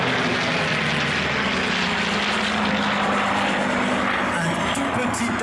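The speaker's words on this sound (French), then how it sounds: "C'est le Messerschmitt 109." A Messerschmitt Bf 109 propeller fighter flying at the La Ferté-Alais airshow, its piston engine a loud, continuous droning roar sustained throughout.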